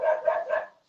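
A dog barks three times in quick succession at close range, sharp yaps with no other sound, indoors during a live home broadcast.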